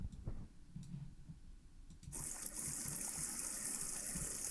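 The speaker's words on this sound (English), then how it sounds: "So that is our babbling brook" A synthesized babbling brook sound effect plays as faint water gurgling and clicks, then swells abruptly into a brighter, louder steady rush of running water.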